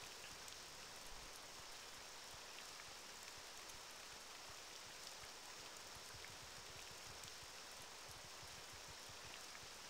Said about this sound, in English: Oh, look at that, it's raining.